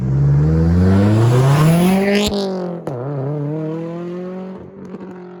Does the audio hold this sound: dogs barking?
no